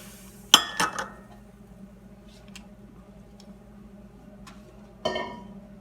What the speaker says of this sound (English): Jars in the canner, nice and hot.